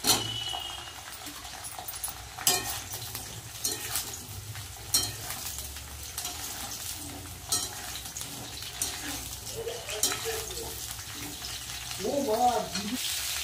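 Bitter gourd and potato frying in a pan for a Sunday vegetarian thali, a steady soft sizzle with occasional clinks and stirring scrapes, and a brief voice near the end.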